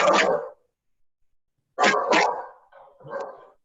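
A dog barks and whines indoors in a few close bursts: a short yelp, a pause, then a louder double bark trailing into softer whimpering, with no talk over it.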